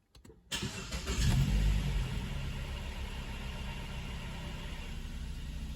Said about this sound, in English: I'm going to start the engine now.